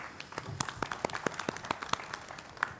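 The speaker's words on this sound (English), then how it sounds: "So kindly welcome Ashok Raghavan ji with thunder of applause." Sparse, scattered clapping from a seminar audience greeting a speaker, individual claps distinct and fairly faint rather than a full ovation.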